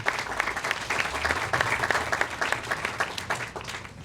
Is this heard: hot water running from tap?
no